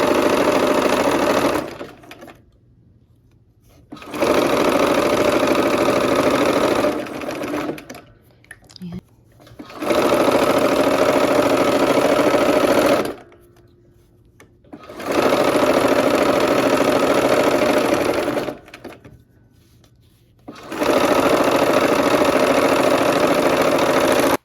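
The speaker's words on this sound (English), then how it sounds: "sewing these 2 rows together." A sewing machine stitches two quilt rows together for a barn quilt sampler. It gives a loud, steady motor whir in about five long runs separated by short quiet pauses, heard close with no talking.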